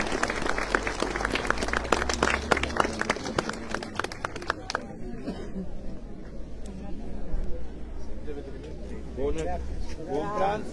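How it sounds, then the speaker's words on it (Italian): Applause from a church congregation at the close of Mass at the Santuario Madonna della Sciara in Mompileri, a dense burst of clapping that thins into scattered claps and chatter as voices rise near the end. "Un bel applauso a tutti quanti."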